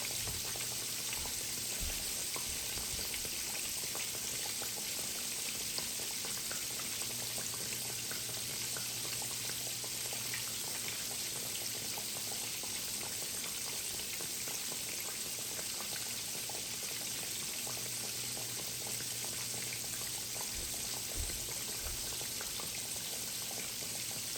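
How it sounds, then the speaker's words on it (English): Pork chops fry in oil over medium-high heat, a dense, even, bubbling sizzle that runs on without a break, close and steady, with no voices. "just leave them alone and let them fry on about medium high"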